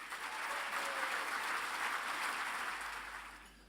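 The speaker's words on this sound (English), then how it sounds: "Would you give a round of applause, please, for the Chief Executive of the club, Martin Bain." Audience at an event at the Hilton in Glasgow applauding steadily, a dense, even wash of clapping that holds at a moderate level and then tapers off toward the end.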